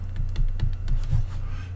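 Computer keyboard keys clack in an irregular run of close, distinct taps with a low hum underneath and no voices.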